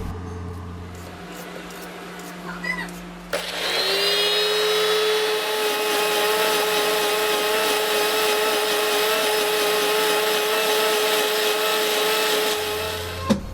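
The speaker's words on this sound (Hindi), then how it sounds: "सबसे पहले हम प्याज को काट कर जूस वाले जग में ग्राइंड करेंगे।" Onions are ground in the juicer jug of an electric grinder, a loud, steady motor whine that starts abruptly after a few seconds of quiet handling noise and runs continuously to the end before cutting off.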